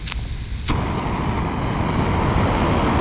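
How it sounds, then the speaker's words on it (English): A steady, broad hiss sets in after a couple of short clicks and continues unchanged, close and fairly loud: gas rushing from an MSR Pocket Rocket camping stove burner. "You just turn that, you hear the gas."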